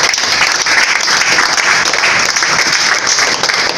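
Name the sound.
church congregation applauding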